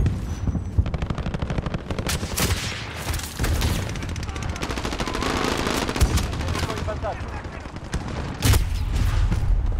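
Rapid automatic gunfire in the Call of Duty: Warzone video game, loud sustained bursts of machine-gun fire with sharp single shots and a heavy boom, a voice talking over part of it.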